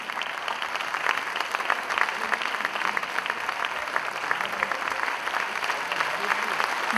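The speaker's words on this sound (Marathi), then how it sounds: "जोरदार टाळ्या आपण त्यांच्या कार्यासाठी वाजवूया।" Audience applause at an awards ceremony, a dense, steady patter of many hands clapping that runs continuously at full strength throughout.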